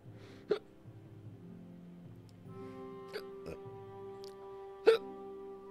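A character in the video game Kingdom Come: Deliverance hiccups, with about four sharp, isolated hiccups spread unevenly over soft, steady background music.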